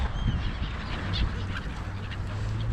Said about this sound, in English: The seagulls going after the crow, or is the crow going after seagulls?